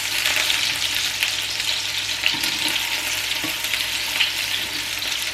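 Meatballs fry in a large pan, giving a continuous loud crackling sizzle with occasional stirring clicks and shifts, close up and with no voices.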